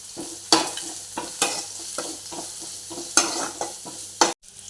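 Three eggs frying in a pan with onion and green chili, a steady sizzle broken by regular stirring scrapes, close and fairly loud, with no talking.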